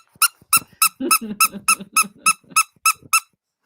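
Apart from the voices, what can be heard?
squeaky dog toy being squeaked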